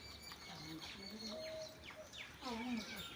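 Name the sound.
koel bird calling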